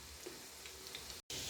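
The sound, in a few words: pumpkin kebabs frying in a pan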